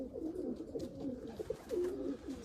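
Racing pigeons coo inside a loft in Batenburg: soft, low, repeated throaty calls overlapping at close range, with a steady murmur of the flock and no talk.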